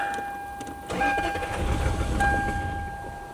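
A Lexus LS400 engine, abandoned for ten years, cranks with a whirring, strained turnover that rises and dips over a few seconds without catching, fairly close and steady.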